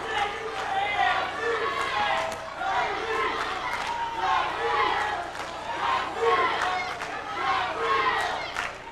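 A fight crowd at a Cung Le vs Jason Yee bout cheers and yells in rolling surges, rival supporters shouting over each other, loud and sustained with repeated rising bursts of chanting.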